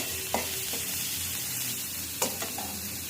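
Leafy greens fry in a pan with a continuous, close sizzle, marked by a few brief scrapes of a stirring utensil.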